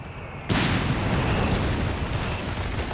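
Mortar shells burst in Company of Heroes 3: after a brief quieter lead-in, a loud explosive onset gives way to a sustained rumbling barrage of blasts, smoke and debris that keeps up for the rest of the clip with no talk.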